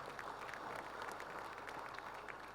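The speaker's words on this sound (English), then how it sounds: "I ask you to give them a round of applause." Faint, steady applause from an audience at a people's congress rally, honouring civil servants; a dense wash of clapping that holds evenly throughout, distant and without voices.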